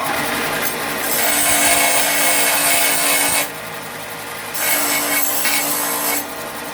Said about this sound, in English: it's pretty easier to sand them down and kind of clean the paint off of it with something like this